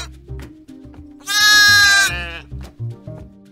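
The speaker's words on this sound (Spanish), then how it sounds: "el balido de un corderito es uno de los más lindos que existen" A single high, quavering bleat of a young lamb rises clearly over quiet low background noise, close and loud for about a second.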